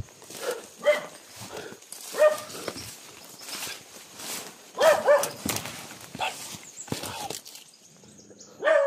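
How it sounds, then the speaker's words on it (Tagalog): Dog barking outdoors in a series of sharp, separate barks spread unevenly over the span, with quieter rustling and movement sounds between them. "Ang aso pa kayong dala ha."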